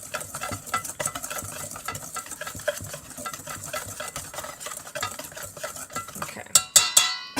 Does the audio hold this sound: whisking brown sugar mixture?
yes